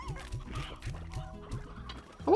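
Chickens cluck in Slime Rancher with a run of short, evenly spaced low clucks. A brief higher squawk cuts in at the end.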